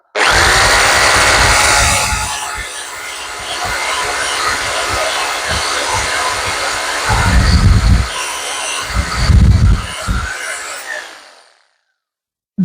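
A power tool cleaning an Austin Mini engine's cylinder head in a workshop: a loud, steady whirring roar for about eleven seconds, rising into heavier grinding bursts near the end before cutting off abruptly.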